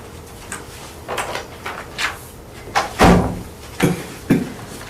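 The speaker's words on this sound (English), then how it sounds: "You mind if I close the door?" A meeting room door is handled and closed, several knocks and rustles building to a firm thud near the middle followed by a couple of lighter bumps, close by in a quiet room.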